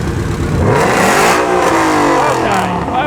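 Jaguar 5-litre V8 car engine revving hard, a loud, close, continuous roar that climbs and falls through several sweeps in pitch, heard alone without talking.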